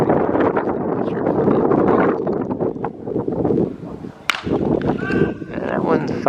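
Strong wind buffets across a baseball field in Aruba, a loud, gusty rumble that swells and dips throughout, with voices heard beneath it.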